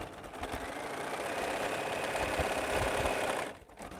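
A sewing machine stitches a half square triangle of quilt fabric in a steady, continuous mechanical whir that runs close and even for several seconds, then stops abruptly near the end.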